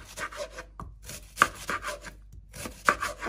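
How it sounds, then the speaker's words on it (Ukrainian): Knife chopping onion into small pieces on a board while preparing a chicken breast dish, a run of quick, close, dry cuts broken by two short pauses. "Також розрізаю на невеличкі частинки"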